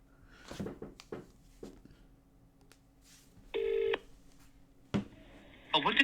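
Telephone number dialing tones in The Detective Society game: two bursts of keypad beeps, a longer tone mid-way and a cluster near the end, amid quiet clicks and faint background speech.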